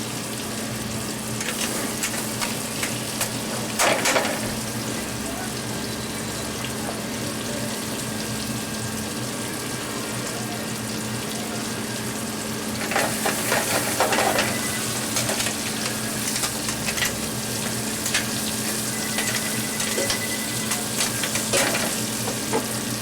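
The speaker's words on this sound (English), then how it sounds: "Now we'll put the clams in there." Clams hitting a hot pan of garlic for fra diavolo set off a steady hiss and crackle, with two louder bursts of sizzling and clattering as shellfish go in.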